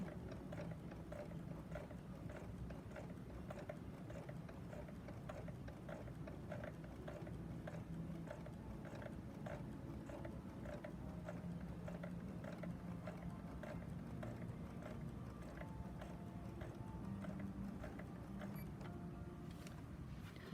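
A serger runs steadily, stitching straight along a quilt binding with a continuous mechanical whir and fine rapid ticking throughout, fairly close and uninterrupted.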